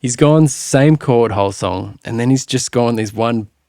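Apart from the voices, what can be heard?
No everyday noises stand out.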